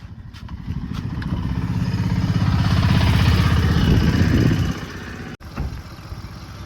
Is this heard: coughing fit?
no